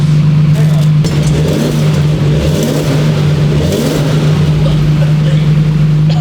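A 2JZ-GTE-swapped Toyota Mark II JZX100 fitted with a TRD exhaust runs at a steady, fairly subdued idle, with a constant low drone and a light rumble underneath throughout.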